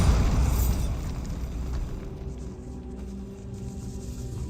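A Bombarda spell explosion in the video game Hogwarts Legacy erupts with a strong low burst at the start, then decays into a fading rumble with lingering background tone.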